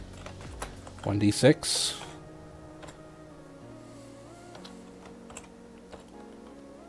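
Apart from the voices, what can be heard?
typing on a computer keyboard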